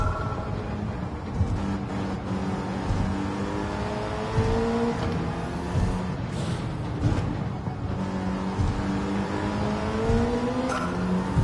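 A lightweight race car in Gran Turismo 7 on a damp Tokyo circuit, its engine droning continuously and loudly as the pitch climbs and falls through repeated gear changes, with no voices over it.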